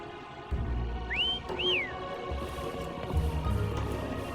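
Whistling to call a creature named Foam in a video game, two short rising-then-falling whistle notes in quick succession, fairly clear over a low rumbling game background with soft footstep-like thuds.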